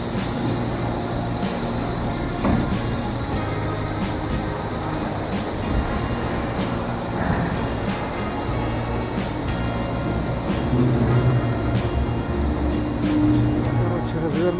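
A Wuppertal suspension railway train rolls along on its rails with steady rumbling and occasional high squeals, continuous and fairly close, with voices faintly present in the background.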